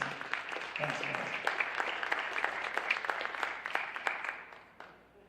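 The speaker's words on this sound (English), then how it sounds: "Nice round of applause again for our 4-year veteran" A modest crowd at a high school football awards ceremony applauds a four-year veteran player, individual claps distinct in a fairly sparse rhythm, with some voices underneath, fading out toward the end.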